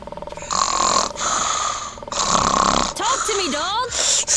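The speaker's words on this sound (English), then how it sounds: "This doesn't sound like beeping. It sounds like either purring or snoring." Snoring from a character in the video game Road 96: a series of loud, drawn-out rasping breaths in a slow rhythm, close and prominent, with squeaky wavering tones near the end.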